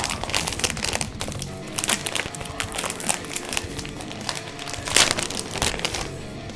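Crinkly black plastic packaging of Winspear guitar strings for a 7-string guitar is torn and handled up close, a dense continuous crackling and rustling with one sharper rip near the end.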